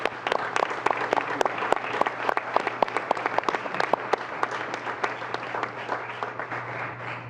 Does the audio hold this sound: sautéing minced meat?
no